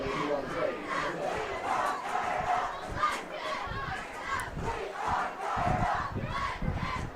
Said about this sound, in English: Homecoming always brings a pretty good crowd